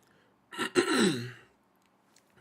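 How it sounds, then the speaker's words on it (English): A single close throat clear, a short rough burst followed by a longer gravelly rasp, then quiet, over Marvel's Avengers game commentary. "Apologize for clearing my throat"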